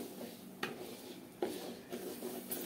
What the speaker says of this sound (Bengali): চাউলগুলোকে একটু নেড়ে চেড়ে ভালো করে ভেজে নিচ্ছি।